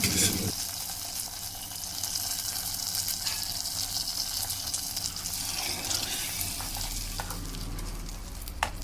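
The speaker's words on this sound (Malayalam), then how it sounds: "ഇനി അത് കറിയിലേക്ക് ചേർത്ത് നന്നായിട്ടൊന്ന് മിക്സ് ചെയ്ത് കൊടുക്കാം." A hot tempering of mustard seeds and shallots goes into a tamarind curry and is stirred in. A loud, dense sizzle and bubbling carries on close and steady throughout, with no talking.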